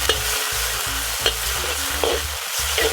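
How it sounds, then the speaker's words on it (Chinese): Garlic and scallion stir-fry in a little hot oil, giving a close, steady loud sizzle with a regular rhythm of low spatula scrapes against the wok, with no talking. "用这点油来爆香大蒜和葱。"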